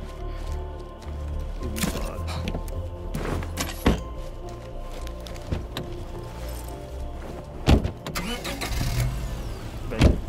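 A car engine starts inside the zombie-survival video game State of Decay 2, mixed with door thunks and other busy game noise under a steady low rumble, with some voice activity.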